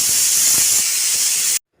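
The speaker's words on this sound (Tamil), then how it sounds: "3 விசில் வந்துருச்சு." A pressure cooker lets off a loud, steady steam whistle and hiss while cooking drumstick leaves for soup, holding close and continuous before cutting off abruptly.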